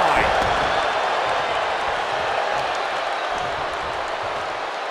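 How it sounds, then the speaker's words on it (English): A loud, dense arena crowd roar from the WWE 2K24 wrestling game fills the clip steadily from start to finish, a continuous wash of cheering with no breaks. "The sound of this crowd is deafening, and he's asking for more."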